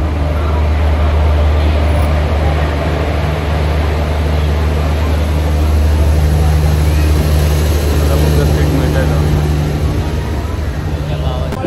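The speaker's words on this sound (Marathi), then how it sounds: "फायनली ट्रेन आलेली आहे 11:15ला." The Konkan Kanya train at Thane station platform, a loud, continuous low rumble and roar of the rolling train that holds steady throughout, with busy platform noise around it.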